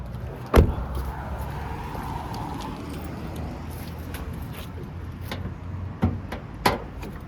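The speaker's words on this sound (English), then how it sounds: "I'll quickly pop the bonnet," The bonnet release of a 2023 Toyota Hilux SR is popped with one sharp, close clunk, followed later by a couple of softer latch clicks over quiet background hum.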